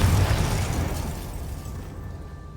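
A Confringo explosion spell in Hogwarts Legacy bursts with a loud, deep boom that decays over about two seconds, with no talking over it.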